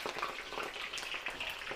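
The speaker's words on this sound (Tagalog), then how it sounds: "Prito po tayo dito ng embutido." Embutido, Filipino meatloaf, frying in a pan, a close, continuous crackling sizzle with dense popping throughout, alone without talk.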